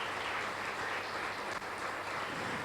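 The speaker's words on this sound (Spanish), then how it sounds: "Dale un fuerte aplauso de gloria, de gratitud a Él" A church congregation at a youth gathering applauds in praise, a dense, steady wash of clapping that holds evenly throughout without voices.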